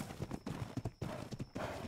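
Horse hooves clip-clopping in ARK Ragnarok, a steady, fairly close rhythm of hoofbeats walking with brief pauses.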